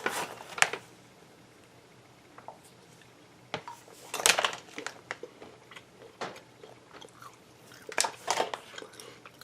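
Crunchy bites and chewing on large raw, unroasted whole cashews, scattered sharp cracks and crunches in irregular bursts, close up, with quiet gaps between bites.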